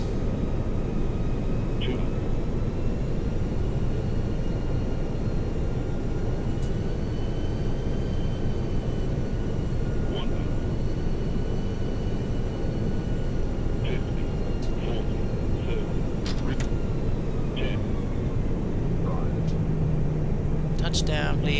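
An airliner lands at New Orleans, heard from the cockpit as a constant loud roar of engine and airflow, with brief faint tones and clicks over the top.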